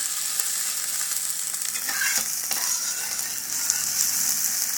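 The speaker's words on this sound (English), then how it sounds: "Now, I'm sauteing." Onions sauté in a pan over fairly high heat for curried chickpeas, giving a steady close sizzle with a few light scrapes and clinks of stirring, and no talk.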